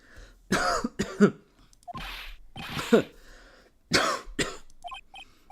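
A few short, harsh coughs and throat-clearing bursts spaced apart, close and fairly loud, with a brief chirpy electronic effect near the end, in a Phoenix Wright video game.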